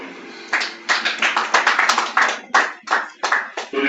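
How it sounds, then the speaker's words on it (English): Clapping from an audience at a governing council meeting, close and crisp, with a steady run of sharp hand claps that starts after a short pause and continues for several seconds. "Let's clap for him, please."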